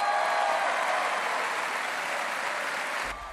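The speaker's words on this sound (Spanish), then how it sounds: "Entre vivas y el constante aplauso de sus seguidores" Supporters of Republican Jeb Bush applauding and cheering at his presidential campaign launch, a dense, steady wash of crowd clapping that cuts off abruptly near the end.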